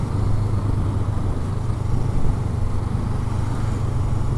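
A 2019 Honda CBR500R sports motorcycle being ridden, its engine a steady, loud, continuous drone mixed with wind rush throughout.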